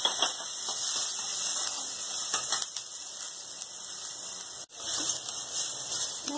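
Garlic sizzles in hot oil with mustard seeds and cumin, giving a steady close hiss and crackle with one brief dip partway through.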